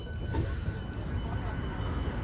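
A passenger train in Sweden runs along its tracks with a steady low rumble and faint wheel squeal, heard close from inside the carriage throughout.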